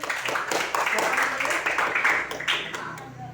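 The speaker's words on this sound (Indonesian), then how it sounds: "Ya tepuk tangan untuk teman kalian." Schoolchildren in a classroom clap for a classmate, an uneven burst of hand claps mixed with voices, fading out at the end.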